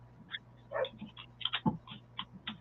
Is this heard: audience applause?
no